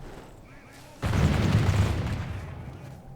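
Units fire a volley in Call of Warhammer, a loud rumbling crash of massed shots that breaks out after a quiet moment and fades over about two seconds.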